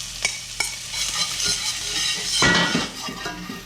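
Red onions sizzle in butter in a pan as a spoon stirs them around, with sharp clinks of metal against the pan and a louder scraping burst partway through, no voices.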